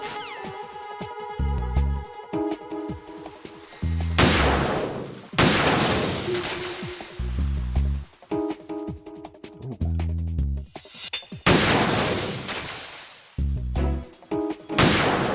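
Rifle shots and sniper support fire in Metal Gear Solid 2, several loud sharp bursts with rumbling tails spaced every few seconds over steady game music, no talking.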